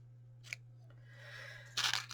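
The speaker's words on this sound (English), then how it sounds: "I'm just going to use my big ribbon scissors to trim that off a bit." Large ribbon scissors snip the ribbon on a small Tic Tac gift box, a short crisp cut and then a louder closing snip near the end, close and quiet with a steady hum underneath.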